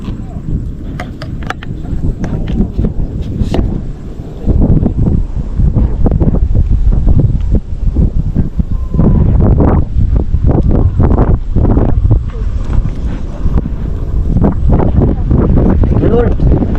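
Loud, steady wind buffeting the microphone on a fishing outing, with a rumbling low roar and gusty bursts throughout, and faint voices underneath.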